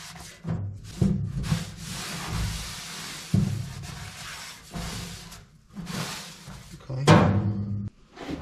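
Scotch-Brite pad dampened with solvent scrubbed over the sides of a dirty part, giving rough, uneven rubbing strokes in close bursts with a few sharper knocks, no talking.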